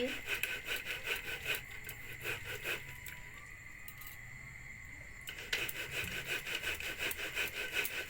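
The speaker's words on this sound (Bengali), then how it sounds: "এই দেখো আমি তাল ঘষছি" Palm fruit pulp is rubbed against a sieve by hand while making palm cakes, giving repeated rasping strokes in a steady rhythm, close and fairly quiet, with a short pause in the middle.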